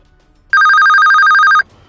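A telephone rings once, a loud, steady electronic trill lasting about a second, starting and stopping abruptly against a quiet room.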